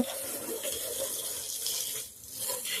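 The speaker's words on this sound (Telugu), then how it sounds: "సో ఇప్పుడు వచ్చేసి మనం వాటర్ అయితే కొట్టిద్దాం" A strong, continuous rush of water spraying onto a car during a home car wash, close and loud, dipping briefly before surging again.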